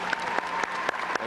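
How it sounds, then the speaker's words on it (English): Audience applause at a 1995 high school graduation in Newton, Massachusetts, a brief, dense burst of many people clapping together, continuous and moderately loud throughout with no talk. "Let's please give the class officers another round of applause."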